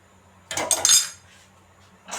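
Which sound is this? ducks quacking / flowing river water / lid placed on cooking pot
lid placed on cooking pot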